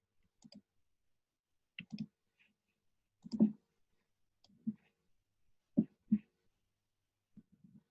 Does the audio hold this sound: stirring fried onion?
no